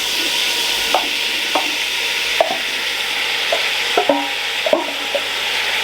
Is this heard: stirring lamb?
yes